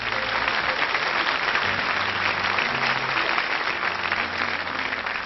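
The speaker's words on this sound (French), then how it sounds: "on l'applaudit très fort." A concert audience applauds loudly and steadily in a sustained wash of clapping, with faint low music running underneath.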